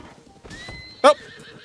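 A horse in the Zelda: Tears of the Kingdom video game gives a short, sharp neigh with hoof clops, standing out near and loud against quieter game sounds.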